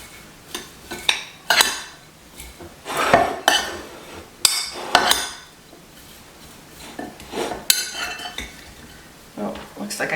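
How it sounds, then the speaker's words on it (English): A utensil scrapes and clinks against a pan as food is stirred around, loud close irregular metallic knocks and scrapes, with a quiet voice now and then in between. "I'm just gonna stir that around."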